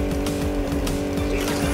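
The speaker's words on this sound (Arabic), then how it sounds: "يمكنك استعمال محركات سرعتك للحاق به مافريك" A cartoon monster truck engine roars and accelerates hard, a loud steady growl with tire noise, no talk.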